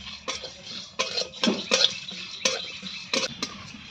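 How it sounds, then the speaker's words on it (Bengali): Whole spices for mango pickle frying in a pan, heard as irregular scraping and clinking of a utensil against the pan with a faint hiss underneath, close by, with no voices. "সব একসঙ্গে দিয়ে দিচ্ছি, সুন্দর করে লাল লাল করে ভেজে নেবো।"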